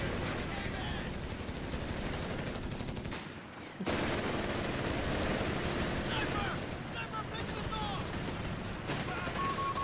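MG40 machine gun fire in the Company of Heroes 3 video game sounds as dense, continuous battle noise with bursts of gunfire and explosions. It runs throughout and briefly drops out partway, with speech mixed in.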